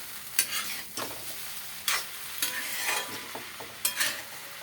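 Fried fish head curry stirred in a pan with potatoes and papaya, a soft background sizzle broken by about five sharp scraping strokes of the spoon at irregular intervals, close by.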